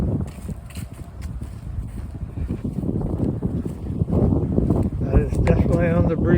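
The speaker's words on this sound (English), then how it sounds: "That is definitely on the breezy side still." Breezy wind on a ridge-parallel mountain trail on the Appalachian Trail in early May buffets the microphone, a continuous roaring gust that swells and grows stronger toward the end.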